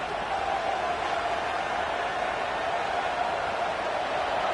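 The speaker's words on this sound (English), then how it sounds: "Listen to the crowd energy here in the early going." Steady, dense roar of a large stadium crowd at a football game, a continuous broad wash of cheering and murmur that holds level throughout with no single voice standing out.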